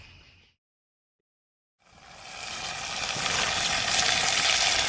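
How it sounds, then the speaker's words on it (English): A pound of meat hits a skillet at a campsite, a brief sound then a near-silent gap, followed by loud, continuous sizzling frying that swells and holds steady. "Pound number two going on the skillet"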